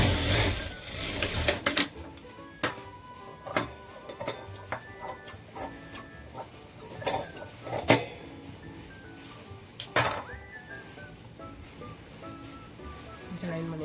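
A sewing machine runs in bursts, joining the side seam of a blouse, with clicks and short mechanical rattles under steady talking.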